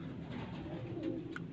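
Pigeons coo softly on a Punjab rooftop: low, rolling calls under a constant background hiss, with a brief higher call near the end.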